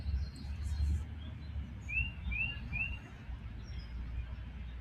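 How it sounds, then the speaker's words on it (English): Bird singing outdoors, a few short, thin chirps heard at moderate distance over steady low ambient rumble. "I hear a bird now."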